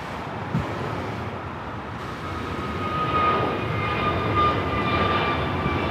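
A United airliner on final approach to land on runway 25 left at LAX, a steady broad jet engine roar at moderate distance that swells slightly louder toward the end, with no talk.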